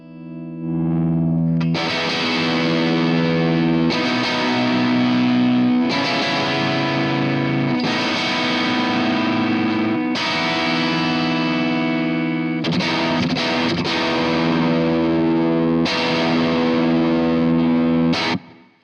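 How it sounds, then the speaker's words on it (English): An electric guitar fitted with an Evertune bridge plays through heavy distortion, loud sustained chords and riffs in several phrases separated by brief breaks, with an effects-laden, saturated tone and no talking. "let me just play a little bit of this guitar"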